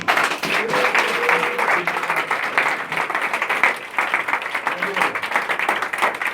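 A church congregation at a French-language service applauds and cheers, dense clapping and voices filling the room for several seconds, close and continuous.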